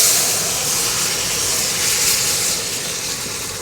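Radhuni spice tempering sizzles in a little oil in a Bengali home kitchen, a steady, close, continuous hiss and crackle that holds evenly and softens slightly near the end.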